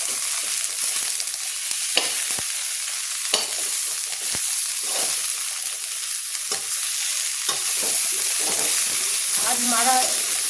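Potatoes frying and being stirred in a hot pan, cooked until lightly browned for a breakfast aloo sabzi; a steady sizzle runs throughout with scattered scraping stir strokes, louder near the end.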